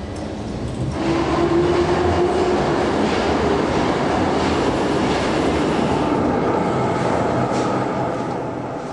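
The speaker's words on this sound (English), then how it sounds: "Toro Toyoda gets on his assigned train." A subway train runs steadily, a loud continuous rumble with clattering wheels and a brief squeal early on, heard close from inside or beside the car with no talking.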